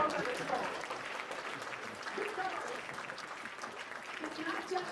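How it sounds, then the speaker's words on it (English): A large audience applauds at a World Financial Group event: steady, dense clapping from start to finish, with crowd noise mixed in. "give another round of applause for the amazing people that work with this show"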